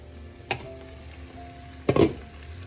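Potatoes cooking in a pan being stirred, with two distinct scraping strokes of a utensil against the pan over a soft, steady sizzle, close and short.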